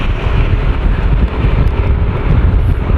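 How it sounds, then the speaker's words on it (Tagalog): Strong wind buffets the microphone in a loud, continuous low roar with gusty rumbling throughout, during a big-bike motorcycle ride to Marilaque. "lakas ang hangin"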